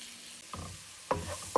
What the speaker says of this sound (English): We're just browning the fish to make sure that it has that beautiful and amazing color